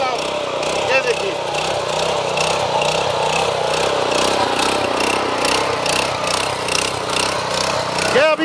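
Power tiller engine running in first gear, a steady mid-pitched chugging drone with a rapid rhythmic beat, loud and close throughout, with someone speaking over it at times.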